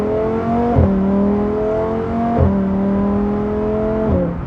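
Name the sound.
sports car engine revving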